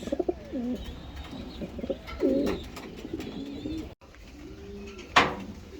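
Racing pigeons coo softly and intermittently nearby, with a few scattered wing flutters and small chirps in a quiet loft.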